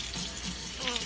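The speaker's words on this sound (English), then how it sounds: "I was turning on the sink." A kitchen sink tap turned on, with water running steadily from the faucet into the basin, close and fairly loud for about a second with no talking.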